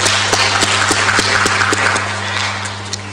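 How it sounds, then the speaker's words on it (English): Forum audience applauding, a dense continuous patter of many hands clapping over a steady low hum from the room, holding evenly throughout. "Let's give her another round of applause."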